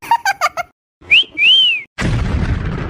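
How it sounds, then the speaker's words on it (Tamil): A cartoon character whistles, a bright sliding two-note whistle heard alone after a few short tonal blips, followed by a loud noisy burst like a boom. "கண்மணி யாரோ விசில் அடிக்கிறாங்க"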